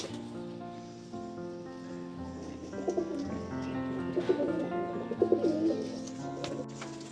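Collected pet pigeons, including feather-footed young birds, give soft, rhythmic low cooing calls that swell and repeat close by over a quiet background hum.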